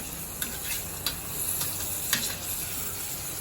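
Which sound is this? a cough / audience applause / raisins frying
raisins frying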